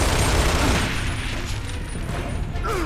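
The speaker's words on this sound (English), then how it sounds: "I got to do the shooting." Dense, steady gunfire from the video game Gears of War 2, a continuous loud barrage of shots and mechanical clatter running through the whole stretch without a break.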